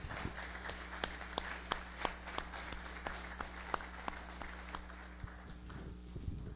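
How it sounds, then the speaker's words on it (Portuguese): Faint, sparse claps in a steady rhythm sound from a church congregation applauding, set back in the room over a constant low hum. "E aplaude ao Senhor mais uma vez"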